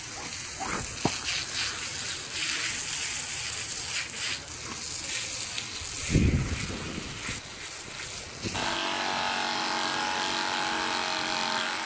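A garden hose sprays water over a pony, a steady close hiss of spray that runs unbroken and changes to a brighter, thinner rush near the end.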